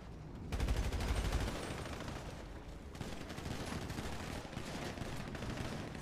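Gunfire in GTA during a FlashLand roleplay session comes as a dense, continuous burst of rapid shots layered over each other, loudest at the start and then holding steady as a rattling barrage.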